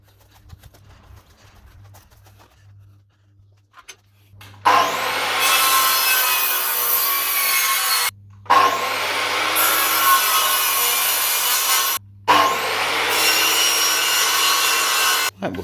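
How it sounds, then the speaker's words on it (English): Wooden door casing being sawn for a miter cut, three long bursts of steady rasping strokes after a quiet start, loud and close. "First job of the day is get the casing cut, mitered and fitted."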